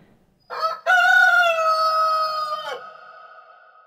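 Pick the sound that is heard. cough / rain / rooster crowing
rooster crowing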